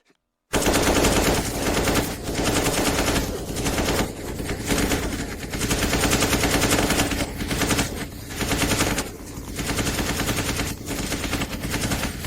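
Rifle gunfire from an animated story erupts after a short silence and keeps up a dense, loud, continuous burst of rapid shots with only brief dips throughout.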